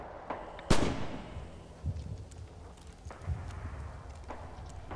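Gunshots in the Red Orchestra 2 game on the Winterwald map: one loud, close crack with a long decaying tail, followed by fainter, duller distant shots and thumps against a noisy background.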